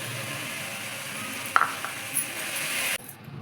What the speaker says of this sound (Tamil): தக்காளி வதங்கிடுச்சு. இப்போ நம்ம கொத்தமல்லி புதினா போட்டுக்கலாம்.